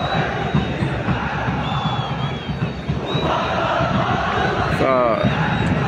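RS Berkane football supporters packing a stadium in Tetouan, a dense continuous roar of crowd noise with shouting and cheering voices mixed in, a few faint whistles rising over it.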